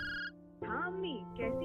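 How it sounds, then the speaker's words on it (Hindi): A mobile phone rings with a melodic electronic ringtone, repeating tonal phrases in short bursts, with a voice speaking over the ringing. "सामने रखा मोबाइल फोन बजा"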